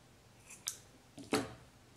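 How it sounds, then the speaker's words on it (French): Scissors snip through knitting yarn in two quick, close cuts, a light first snip followed by a louder, crisper second one, with no talking. "je coupe le fil"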